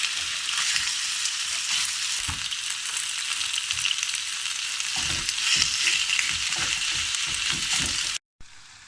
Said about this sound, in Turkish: İçine sıvı yağımızı koyup ardından tavuklarımızı atıp kızarana kadar pişireceğiz.